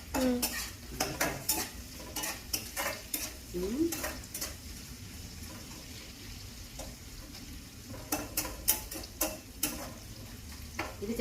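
Sliced onions sizzling in a hot pan with a pinch of salt, a steady low crackle broken by repeated sharp spoon scrapes and clinks against the pan, close and clear.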